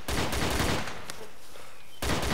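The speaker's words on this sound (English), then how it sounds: "Keep shooting." Rapid bursts of gunfire in the DayZ video game, loud and dense at the start and again at the end with a quieter gap between, and no talk over it.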